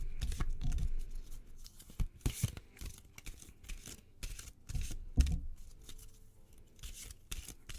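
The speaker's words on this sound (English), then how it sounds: "I've shuffled the cards right in the microphone" Tarot cards are shuffled right against the microphone, producing loud, repeated papery riffles and flicks in irregular bursts over several seconds.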